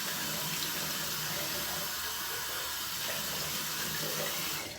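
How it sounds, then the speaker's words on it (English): Running tap water splashes steadily into a sink as a razor and face are rinsed, a continuous close hiss and patter that holds for several seconds before cutting off. "So now I'm gonna rinse off the razor, rinse off my face."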